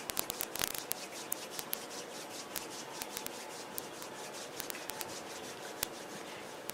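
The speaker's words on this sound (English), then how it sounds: "gently rub the palms against each other" Palms of two hands rub slowly together at chest level, a soft, close, continuous hushing friction broken by a few faint clicks, with no talking.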